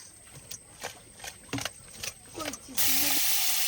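Fish sizzling as it fries in a pan at an outdoor riverside picnic in the Sundarbans. A loud, steady hiss breaks out suddenly and holds near, following softer clinks and speech-like sounds.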